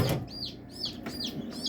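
Baby chickens chirping nearby indoors, a series of about four quick high descending peeps in irregular rhythm, fairly quiet over a low background hum.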